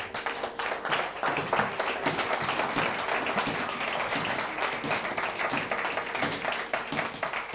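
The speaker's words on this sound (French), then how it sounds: "Est-ce que nous pouvons lui donner une acclamation?" A church congregation gives a round of applause after a prayer at a Sunday service, with steady, fairly distant clapping from many hands that carries on alone for several seconds.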